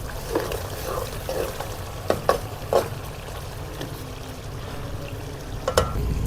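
Spices frying in a karahi with a little water added for tinday ki sabzi, a steady low sizzle broken by a few sharp scrapes and clinks of stirring, close and moderately loud.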